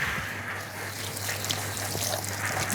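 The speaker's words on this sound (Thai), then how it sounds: "ล้างมือกันเนาะมีก๊อกน้ำเปิดใช่เลยนี่ครับดีนี่" Water runs steadily from a tap for hand washing, a soft continuous trickle and splash heard close by over a low background hum, with no talking.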